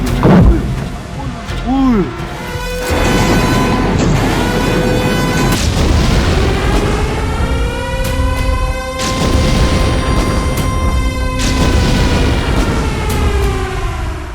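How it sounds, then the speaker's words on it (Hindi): Bombs and artillery shells explode in a strike on Pakistan during Operation Sindoor, a sharp booming blast followed by heavy rumbling and sustained roaring, loud and close, with someone speaking over the noise. "देखना बम कैसे आ रही है वहाँ से"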